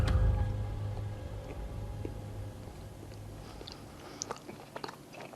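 Chewing a white-chocolate-coated celebrity fitness protein bar, with quiet soft crunching close to the mic under a low background hum, no talk.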